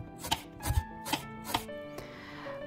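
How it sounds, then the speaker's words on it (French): A knife finely slices onions on a board, with about five crisp, evenly spaced chops close by, each followed by a light scrape, set against quiet background music. "Je commence par émincer soigneusement mes oignons."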